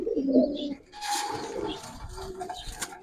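Giribaz pigeons in a loft give low throaty coos, a cluster of soft calls up close, followed by rustling movement and faint bird chatter.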